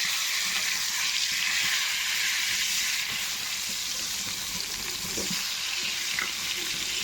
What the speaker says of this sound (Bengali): এই যে বেগুন ভাজা বেগুন ভাজা হচ্ছে বেগুন ভাজাটা তুলে নেবো